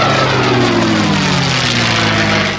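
A P-51 Mustang propeller fighter plane roars past loudly and continuously, its engine drone sliding gradually lower in pitch as it passes.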